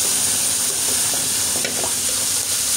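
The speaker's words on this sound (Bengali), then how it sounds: "এখন অনবরত নাড়তে হবে" Thick, creamy milk for shahi halwa is stirred continuously in a hot pan, giving a steady soft sizzle with light scraping strokes of the spoon, close and even, with no talking.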